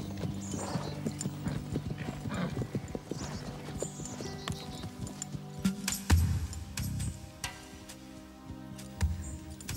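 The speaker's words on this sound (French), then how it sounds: "Regardez, voilà Diablo. Avec un autre cheval." Steady clip-clop of horse hooves trotting on a hard surface, with a horse whinnying briefly and some jingling tack.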